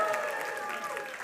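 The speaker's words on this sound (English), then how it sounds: "Oh yeah, come on, some applause, some applause." Applause from an audience at a civics trivia event held at the National Archives, a steady wash of clapping over its short length with some voices mixed in.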